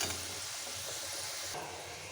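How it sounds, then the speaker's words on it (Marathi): Steady frying sizzle of bitter gourd in hot oil, a continuous crackling hiss throughout with a slight rise in intensity near the end. "आपलं कारलं पण इकडं फ्राय होतंय"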